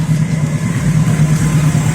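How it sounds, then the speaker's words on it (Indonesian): A train passes close by a motorcycle workshop, a loud, steady low rumble with a droning hum that holds evenly through the moment, with no speech. "Aduh, bentar, keretanya lewat guys."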